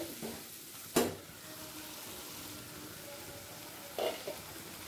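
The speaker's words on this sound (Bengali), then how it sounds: "টমেটোর সাথে ভালো করে মিশিয়ে নিচ্ছি।" Tomatoes with salt and turmeric sizzle softly in a pan, with two distinct scraping thumps of a spoon as they are stirred together.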